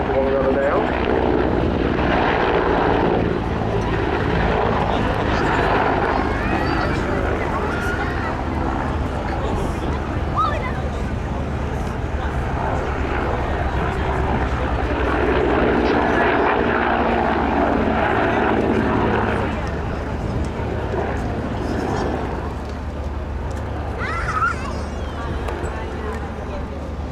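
Czech Mil Mi-171 Hip and Mi-24 Hind helicopters fly a display at the RIAT 2022 airshow, their loud rotor and turbine roar sustained throughout, with a commentator talking over it.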